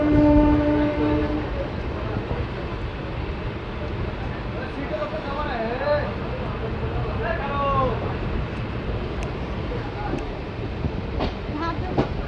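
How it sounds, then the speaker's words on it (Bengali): The Rampurhat–Azimganj MEMU passenger train pulls out of Rampurhat station on a monsoon afternoon, rumbling loudly and steadily with rolling wheel noise and wailing horn-like tones. A voice talks over it throughout. "একেবারে সঠিক সময়ে রামপুরহাট স্টেশন থেকে ডিপারচার হয়ে গেছে রামপুরহাট আজিমগঞ্জ মেমু"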